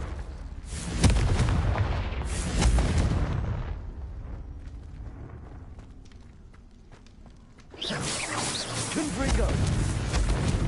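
The Confringo explosive spell from the Hogwarts Legacy video game lands in heavy booming blasts, with a quieter stretch of footsteps and rumble before another loud burst of explosions.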